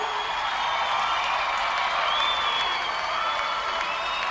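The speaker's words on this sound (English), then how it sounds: "How about a clap for David Moran, the driving force behind the party?" An audience at a Sydney rave party claps and cheers for organizer David Moran, a continuous wash of applause with faint whoops throughout.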